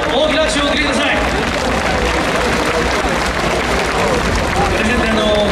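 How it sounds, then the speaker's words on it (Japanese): A festival crowd gives loud, dense applause during an award presentation on stage at a Japanese dance festival, with tonal sounds and voices mixed in over the steady clapping. "どうぞ今一度大きな拍手を送りください"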